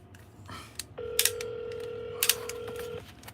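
A telephone rings on an outgoing call placed to a voicemail line: one steady electronic ring tone lasting about two seconds, clear and moderately loud over faint background rustle and a few soft clicks.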